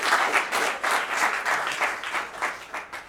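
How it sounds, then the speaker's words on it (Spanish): A church congregation applauds first-time visitors, a steady burst of clapping from many hands filling the room at moderate loudness, with rhythmic swells and no talk over it. "Démosle un aplauso a nuestros hermanos que nos visitan por primera vez"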